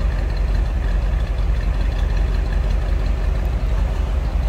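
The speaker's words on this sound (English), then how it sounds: "A little rumble coming out of that V8." A 1957 Ford Fairlane 500 Club Sedan's V8 idles with a steady, low, continuous rumble heard from close behind the car, with no talk over it.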